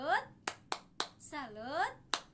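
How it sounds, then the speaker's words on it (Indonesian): Children in a classroom clap together in a quick rhythmic 'tepuk salut' pattern of sharp, close claps, chanting a sing-song cheer between the beats. "Kita beri tepuk salut anak-anak. Tepuk salut."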